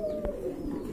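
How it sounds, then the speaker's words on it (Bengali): A single short, soft coo from a Lakkha pigeon at a pigeon farm, heard up close against a quiet background. "এখানে কিন্তু আরেক জোড়া লক্ষা কবুতর আছে"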